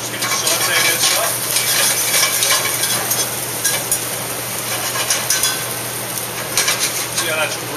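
Garlic and finger chilies sauté in a pan for roasted broccoli, giving a steady broadband sizzle with a constant low hum beneath and occasional stirring scrapes throughout.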